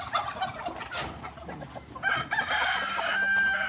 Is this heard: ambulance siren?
no